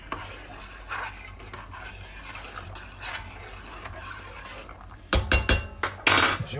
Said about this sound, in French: Je vais mettre mes pâtes dedans, comme ceci. Je vais mélanger.